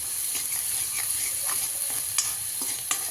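Raw green chillies are stirred and sautéed in hot oil for a fenugreek (methi) bhaji, giving a steady sizzle broken by scraping clicks of a spatula against the pan.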